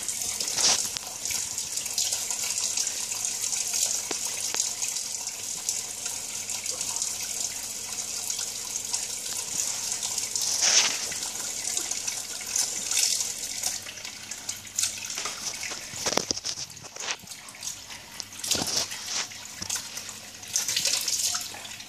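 Running water from a tap spraying during an African grey parrot's shower, a continuous hissing splash with occasional sharper splatters and flutters, fairly faint and steady throughout, with no talk.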